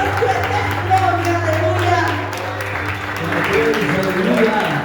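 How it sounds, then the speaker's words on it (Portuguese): A church congregation claps for the Lord during an evening salvation service, steady communal applause mixed with a voice and sustained musical tones throughout. "Aplauda o Senhor nessa noite."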